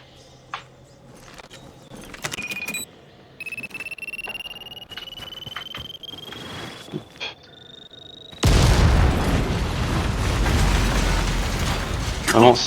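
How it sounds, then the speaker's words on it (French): Explosions in the zombie game Dying Light: scattered clicks, pops and a rising electronic tone, then a sudden loud blast at about 8.5 seconds that swells into a sustained roaring rumble until the end. "il y a des explosions toutes les 30 secondes"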